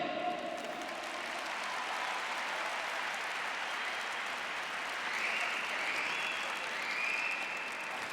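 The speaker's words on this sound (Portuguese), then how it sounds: "Aplaude Ele." A Portuguese-speaking church congregation gives a sustained round of applause: a thick, even roar of many clapping hands that continues unbroken for several seconds, with no voices.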